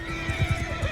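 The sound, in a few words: horse neighing and galloping in Mount and Blade Bannerlord video game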